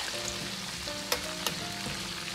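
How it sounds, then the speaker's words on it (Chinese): Squid deep-frying at medium heat in hot oil in a wok, a steady soft sizzle and crackle throughout with a couple of sharp clinks near the middle. "推散后，保持中火炸至40秒钟"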